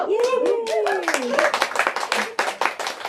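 Audience clapping at a literary reading after a reader is introduced, a short burst of many hands clapping mixed with cheering voices and a loud excited vocal whoop.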